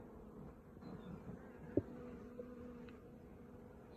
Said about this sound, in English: I don't know why the bees are doing this